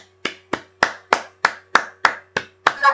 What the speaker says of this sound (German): Also wir können ihr gerne mal einen Applaus geben.